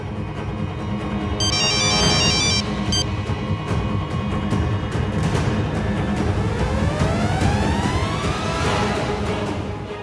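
A phone rings in a tense Hindi TV drama scene, a bright repeating electronic tone sounding in short bursts near the start over loud, dense background music.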